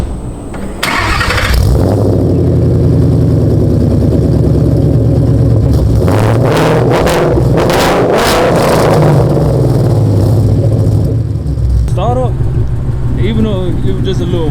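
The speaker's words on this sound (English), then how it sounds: "I'm gonna let y'all hear the exhaust" A Mustang engine with newly installed headers and mid pipe cranks and catches on a warm start, then idles with a deep burbling exhaust, revs up sharply a few times and settles; a voice speaks briefly near the end.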